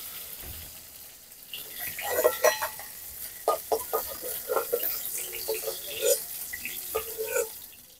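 Fried prawns stirred and scooped from a pan for handi chingri, giving a run of clattering scrapes and wet clinks under a light sizzle, closely miked with no talking.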